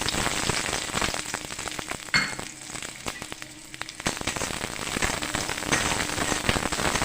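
Close crackling sizzle of onions frying in oil in a wok, a dense spattering like rain on a surface with brief quieter moments, steady and with no talking.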